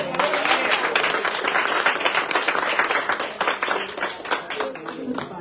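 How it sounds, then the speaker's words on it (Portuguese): A church congregation claps loudly and continuously in worship, a dense wash of hand claps with voices calling out over it, tapering a little near the end. "Aplauda o Senhor"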